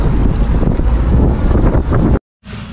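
A fishing boat running offshore in the Gulf near Gulfport, Mississippi: loud, steady engine roar and rushing water with heavy wind buffeting the microphone, then a sudden cut and a quieter hiss.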